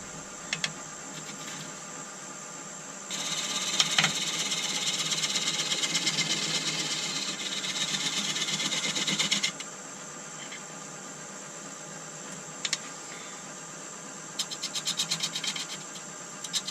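A chisel bites into an elm tenon spinning on a wood lathe, giving a loud, steady cutting rasp for about six seconds. A quieter motor whir runs before and after, with a few brief scrapes near the end.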